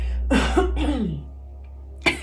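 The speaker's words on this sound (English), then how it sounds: "I'm gonna cough." A single cough or throat clear from a nearby person, followed by a quiet pause and then a brief sharp sound at the end.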